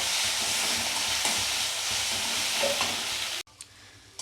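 Garlic fries with spice paste in a pan for crab bhuna, giving a loud, even sizzle with faint stirring that cuts off abruptly near the end, leaving near quiet.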